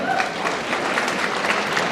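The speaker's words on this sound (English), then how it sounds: "I love this smattering of golf applause every now and then" Scattered, polite golf-style applause from a fan convention audience at a Supernatural panel in Vancouver, a steady patter of many hands at moderate volume that runs throughout, with faint voices mixed in.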